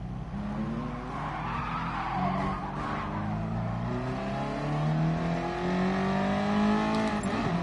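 An engine drones steadily with rising and falling pitch as a car races and skids in a PS4 racing game, tires squealing through the middle and end, with no talk.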